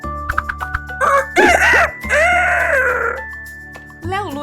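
A rooster crows loudly and close, with clucking beforehand and several long drawn-out calls over a steady hum of background music.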